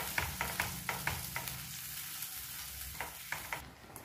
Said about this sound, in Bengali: কড়াইতে দিয়ে আমি একটা পুর তৈরি করে নিচ্ছি, মটরশুঁটি কচুরি করবো তার জন্য।